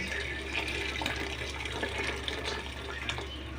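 Water poured into a pot of Ilonggo-style La Paz batchoy soup, a steady broadband splashing stream that runs without a break throughout, close and fairly loud, with no talking.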